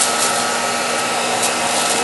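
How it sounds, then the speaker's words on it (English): A hair dryer on its low setting, heating shrink wrap, blows with a steady, continuous whoosh and hum, close by and unbroken. "Now I'm going to also put the hair dryer on high."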